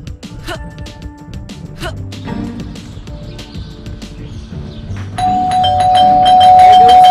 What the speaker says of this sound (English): Stupid bell again.